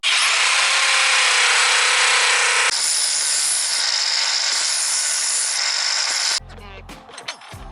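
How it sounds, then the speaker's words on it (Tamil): A power drill boring a hole through the middle of a 1 mm thick metal blade for a grass cutting machine, loud continuous high whine that shifts pitch midway, then stops, leaving brief handling clatter. "இப்போ கொஞ்சம் ஸ்ட்ராங்காக 1 mm திக்னஸில் ஒரு பிளேட்டை மாட்ட போகிறோம். அதுக்கு நடுவில் ஹோல் பண்ணணும்."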